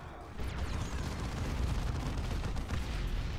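Tank cannon fire in the Warhammer 40K: Dawn of War II strategy game, a loud sustained rumbling blast with crackling gunfire-like texture and heavy low boom lasting several seconds, no talk over it.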